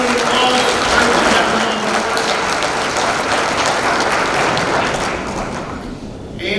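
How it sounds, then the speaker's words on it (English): Steady, dense applause from a banquet audience at a racing awards dinner, welcoming a parts-division representative to the podium, holding at an even level throughout before easing slightly at the close. "Let's give him a nice round of applause."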